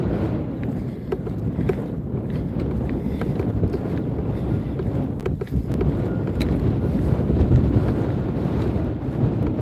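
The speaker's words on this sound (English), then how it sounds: "Quite a bit of wind." Wind blowing across a pier, a continuous rough buffeting rumble against the microphone that stays steady for the whole stretch with no talking.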